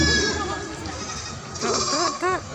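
Sheep bleat in a flock tended by shepherds in a cold open field at night, with several wavering bleats rising over a steady background din, loudest toward the end.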